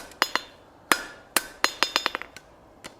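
A hand hammer strikes hot steel spline stock on the horn of an anvil while dressing a coal rake, producing a series of bright, ringing metallic blows, some spaced and some in quick accelerating bursts.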